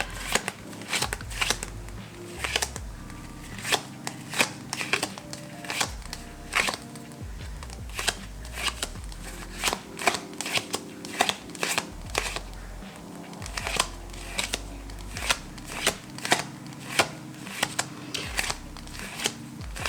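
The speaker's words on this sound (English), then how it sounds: "let me pull some cards here so I have options" Tarot cards are handled and pulled from a deck with a steady run of close, crisp flicks, riffles and light slaps, irregular in rhythm and continuing throughout with no talking.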